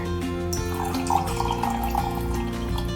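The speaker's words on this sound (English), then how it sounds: "Pour some water." Water pours into a cup for a homemade rose mojito, a short, close splashing trickle.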